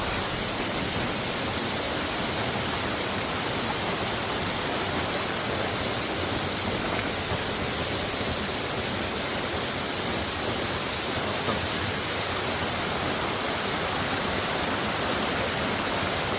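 Water pours over a waterfall near Sakleshpura, a dense, steady roar of rushing water filling the scene, loud and unbroken throughout.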